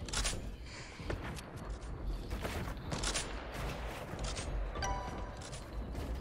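Gunfire in a Fortnite build battle, with sniper rifle shots cracking out among several sharp bursts over a dense, busy game soundscape, loud and close throughout.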